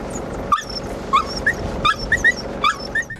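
Lexi the dog whimpers and yips in short, high-pitched bursts repeated at irregular intervals, close and clear over a steady low rumble of a vehicle interior.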